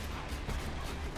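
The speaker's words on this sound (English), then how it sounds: "Explosions." Explosions and gunfire burst from a Borderlands 2 firefight, a dense, continuous low rumble of blasts and shots that is fairly quiet and carries no talk.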